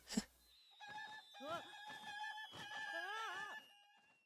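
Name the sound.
chickens (cuckoos) crowing and clucking in video game Zelda: Tears of the Kingdom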